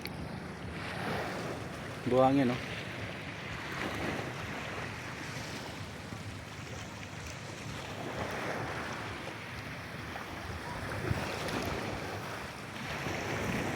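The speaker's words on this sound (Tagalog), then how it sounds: "alon ng dagat." Sea waves wash steadily onto a sandy shore with clear water at sunset, a soft continuous surf hiss mixed with wind noise, while someone speaks briefly over it.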